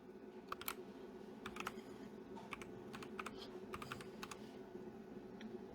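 Someone types text on a computer keyboard while designing a flyer in Photoshop, producing quiet, irregular clusters of clicking keystrokes against faint background hum.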